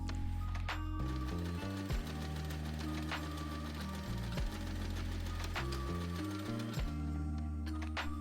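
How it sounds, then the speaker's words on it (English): A sewing machine top-stitches along a fabric edge, a steady close mechanical hum and rapid stitching throughout, shifting speed in stepped bursts, with soft music or background tones underneath. "Then top stitch along the edge for a neat finish."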